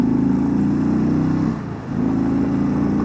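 An Indian Chieftain Limited motorcycle with a 116 cubic inch engine accelerating hard on a freeway, a loud, steady engine roar with a short dip mid-run as the throttle eases, then pulling strongly again.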